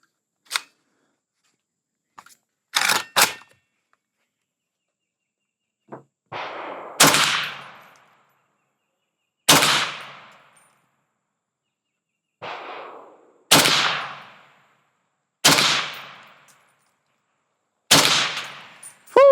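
Suppressed rifle fitted with a GPN dustcover and handguard, fired outdoors at a target about 34 meters away: about nine sharp cracks spaced a second or two apart, each trailing off in a brief decay, with no talking.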